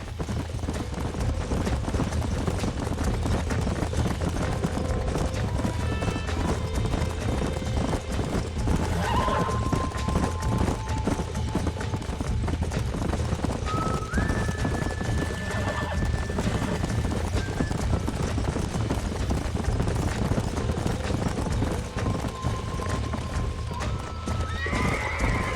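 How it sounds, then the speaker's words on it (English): Horses in the video game Red Dead Redemption trotting with steady clip-clop hooves throughout, broken by several clear whinnies and neighs, set against a dense game ambience with no talk. "These are fine horses."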